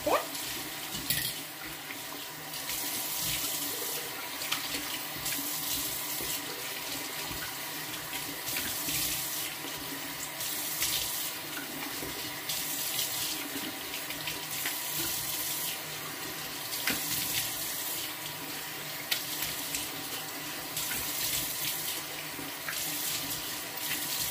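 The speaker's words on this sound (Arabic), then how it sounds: "درت ليه الماء" A bathroom tap runs steadily during a face-care routine, a continuous close rushing of water that stays at an even level throughout with no speech.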